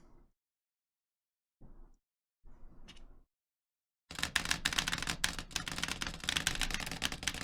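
Rapid, dense clatter of typing on a computer keyboard during a keyboard speed test, loud and continuous, coming after a few soft, brief spoken murmurs separated by silence.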